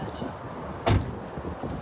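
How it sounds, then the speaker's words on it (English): A door closes indoors with one brief thud near the middle, set against low room noise and soft background sounds. "Can you close the door for her?"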